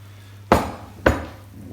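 Baking dish of moussaka handled coming out of an oven, two sharp metallic clanks about half a second apart, close and fairly loud, against a low steady hum.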